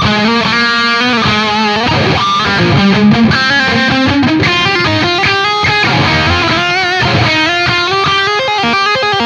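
An electric guitar lead tone from the BT Anchor 50G preset, played through the BT Warm Fire impulse response on a Boutique Tones Arkon 50 amp, rings out heavily distorted and loud, with sustained notes and runs continuing unbroken throughout.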